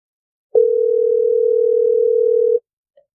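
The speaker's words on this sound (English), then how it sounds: "We got the ringing going on." One steady electronic phone tone holds for about two seconds in silence, then a brief blip follows.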